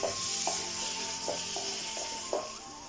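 Bitter gourd pickle with asafoetida stirred in a pan, a steady close sizzle of hot oil broken by several soft scraping strokes of the spoon at irregular intervals, with no voices.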